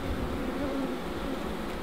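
Honeybees swarming over an open Flow Hive brood box, a steady, close, droning buzz that holds evenly throughout with no talking.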